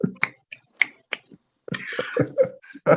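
Sharp, isolated finger snaps ring out one after another in a loose rhythm, then give way to talking and further snaps near the end.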